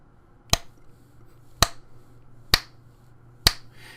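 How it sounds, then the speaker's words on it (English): Four crisp finger snaps ring out alone at roughly one-second intervals, each a sharp click in a quiet room. "And then if I snap my fingers,"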